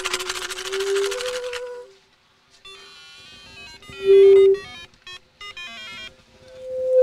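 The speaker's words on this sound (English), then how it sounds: "I'm going to attach the instrument to the tomato, and we'll hear the song of the tomato" An electronic instrument wired to a tomato gives off a series of warbling synthetic tones in bursts and sustained pitches, fairly loud and close, with pauses between phrases.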